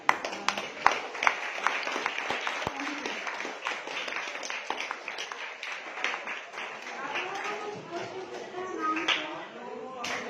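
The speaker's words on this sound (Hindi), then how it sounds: "ताली बजा दो।" An audience claps together after a seminar on mental health for students, a dense patter of many hands that runs for about ten seconds with voices talking over it.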